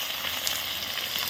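Pork sizzles in hot oil in a kerahi wok at an outdoor new-year picnic, a loud, steady, close frying hiss that holds without a break and with no talking.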